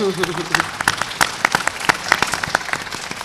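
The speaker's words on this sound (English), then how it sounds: "let's give him a round of applause" An audience at a gun violence round table applauds a commissioner with scattered, uneven clapping. A few sharp individual claps stand out over a thin patter, and a voice speaks briefly at the start.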